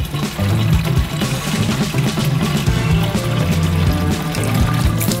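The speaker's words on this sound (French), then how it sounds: "On remplit donc le cylindre d'eau." Water pours steadily into a metal cylinder inside a stove, a continuous loud gushing and trickling fill lasting several seconds with no talk.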